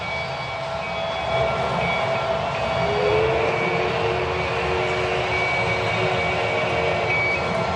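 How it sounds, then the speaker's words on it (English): A ballpark train at a 2019 MLB postseason game rumbles steadily with a low mechanical drone and sustained tonal whine, heard alone without talk for several seconds. "And from my man Bob in the train. He's hoping that's not the last time he gets to operate it"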